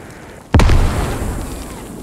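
Mortar rounds detonating in the military shooter game Squad: one sudden loud boom, then a long rumbling decay.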